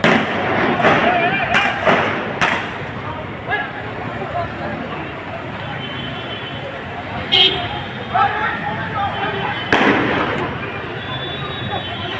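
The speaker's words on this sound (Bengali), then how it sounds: "মুহুর্মুহু গুলির শব্দ চলছে" Repeated sharp cracks of gunfire ring out at intervals on a Sylhet street near the court point after Friday prayers, several loud bangs standing out over a steady crowd murmur and talking.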